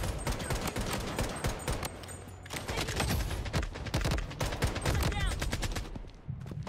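Rapid gunfire from the video game Project Blood Strike, dense bursts of shots crackling almost continuously, loud and close, with sharp individual reports throughout.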